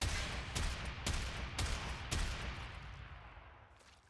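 Hek shotgun fired in a video game, with four loud blasts at a steady rhythm about half a second apart, each followed by a decaying rumble that fades out at the end.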